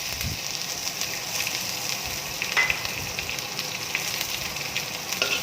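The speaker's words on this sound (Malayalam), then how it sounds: "ഉലുവയിട്ട് അത് പൊട്ടുമ്പോൾ സൗണ്ടൊക്കെ കേൾക്കുമല്ലോ" Fenugreek seeds crackle and sizzle in hot oil for a curry, a steady dense frying hiss with scattered small pops, close and fairly loud, no voices.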